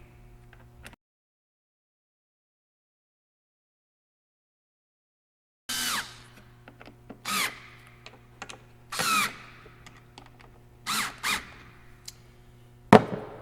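A cordless screwdriver drives screws on a gasket of a Party Pig in several short bursts of whirring and ratcheting, loud and close, after a long stretch of silence, over a low steady hum.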